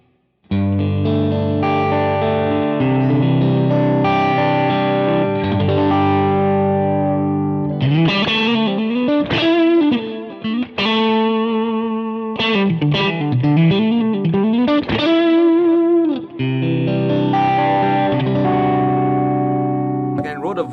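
Electric guitar through a Jan Ray overdrive and a Line 6 HX Stomp XL, loud and continuous: sustained overdriven chords, then a busier single-note passage with bends and audible delay trails, then chords again.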